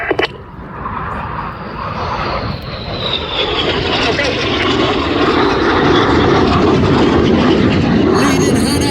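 RAF Red Arrows jets roar through the Hannah Pass at the Midlands Air Festival, a loud, steady, building jet rumble with a descending whine, close and sustained throughout.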